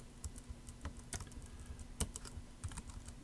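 Fingers type on a computer keyboard in an irregular run of quiet, close clicks and taps, with no one talking.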